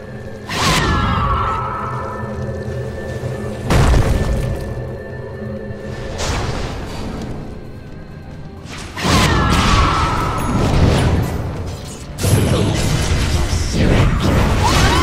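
Dota 2 match action as a tower comes under attack and falls: loud crashing impacts, bursts and whooshes repeating over a busy game soundscape, with an announcer voice speaking over it.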